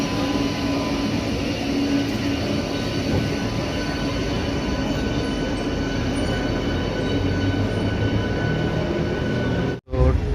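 Train arriving at platform 2 of a station near Kolaghat, a loud, steady rumble of rolling rail cars with faint wheel squeal, continuous and close until a brief cut at the very end.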